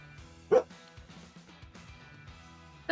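A short-haired dog that acts like a husky gives two sharp, close barks about two seconds apart, with quieter household shuffling and clattering between them.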